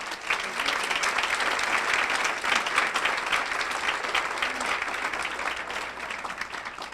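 An audience at a women's resource center founders legacy luncheon claps loudly and steadily for the honorees and finalists, a dense continuous applause that swells slightly and then tapers off, with no speech.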